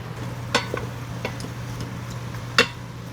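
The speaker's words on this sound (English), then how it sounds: "These onions are now starting to go translucent" Onions sizzling in a pot, a soft steady frying hiss broken by a few sharp scrapes and clicks of stirring, the loudest two about two seconds apart.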